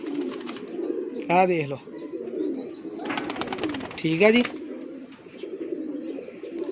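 Pigeons kept for sale coo in short bursts, two louder warbling calls rising above a steady low murmur of cooing, while someone talks over them.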